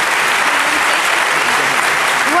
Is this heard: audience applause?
yes